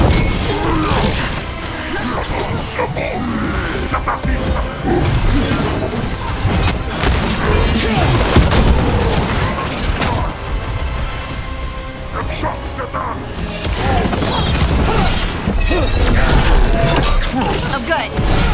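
Enemy fire in Dragon Age: The Veilguard crackles through a busy battle as repeated shots, impacts and crashes, with character voices calling out over the dense, loud combat.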